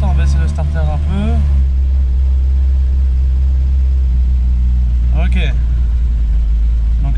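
Carbureted car engine idling steadily after a hard start while the choke is eased back, a close, loud low rumble with a couple of short revs near the start and end; someone speaks briefly over it.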